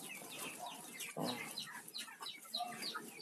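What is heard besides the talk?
chickens clucking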